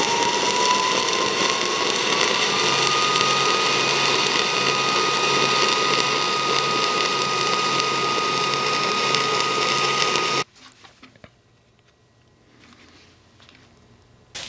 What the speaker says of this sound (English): now we've tried stick mode, TIG mode, solid wire MIG mode